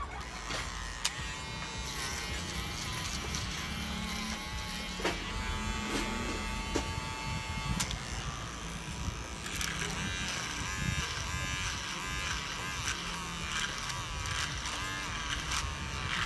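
An electric shaver buzzes continuously at close range while trimming a mustache, with small scraping and clicking shifts as it moves across the hair, fairly quiet overall.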